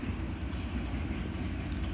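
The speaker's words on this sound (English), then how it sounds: "Passing through now is the Freightliner set from Southampton Freightliner TM SRD" A Freightliner freight train passes through St Denys station, a loud, continuous low rumble and roar of wagons rolling by close at hand, with no break in the noise.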